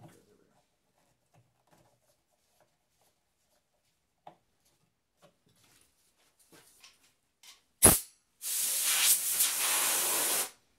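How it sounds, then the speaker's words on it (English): A spray gun run with plain solvent for wood shading blows a loud, steady hiss for about two and a half seconds near the end, after a sharp pop and a long quiet stretch of faint handling noises. "Now I'm going to run a little bit of just solvent through this gun."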